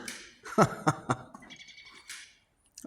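Birds chirp inside an abandoned asylum building, giving several sharp, close calls, then a thin high twittering and one last brief chirp, all with no talking.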